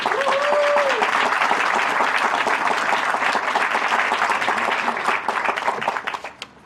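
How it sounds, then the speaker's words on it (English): An audience claps steadily at a ribbon cutting ceremony, dense applause filling the room at close range and fading out near the end, with a brief tone at the start. "this many speakers in, to get that applause."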